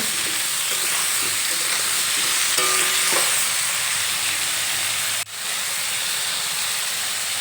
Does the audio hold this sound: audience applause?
no